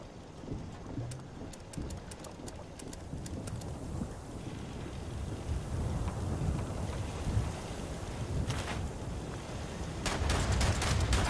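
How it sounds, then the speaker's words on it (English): A shotgun turret in the video game Fallout 76 fires a rapid cluster of sharp blasts, then more bursts follow later over a constant rushing, rain-like background. "That's the shotgun turret responding first"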